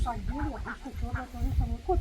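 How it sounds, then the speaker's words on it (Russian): Geese and ducks on a small farm homestead, giving intermittent quacking and honking calls close by, mixed with people talking over them throughout. "Вот это 2 гуся, это от наших гусей яйца."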